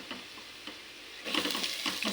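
Onion dropping into garlic already frying in a pan. A faint sizzle swells suddenly into a louder, steady frying hiss with light stirring, all close by.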